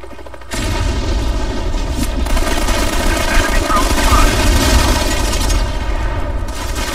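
Grenade explosions go off in a video game, with repeated heavy booms over a dense, continuous rumble of gunfire-like bursts that holds loud and steady for most of the stretch.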